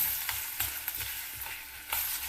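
Ridge gourd chutney ingredients, including chana dal, stirred in hot oil in a pan, giving a steady soft sizzle with scraping strokes of the spoon at irregular intervals, close and alone.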